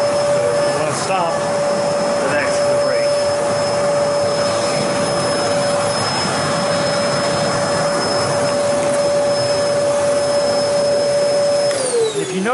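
A bagged vacuum cleaner runs steadily with its hose attached, giving a loud, continuous whine with a fixed tone that holds throughout and then drops slightly near the end.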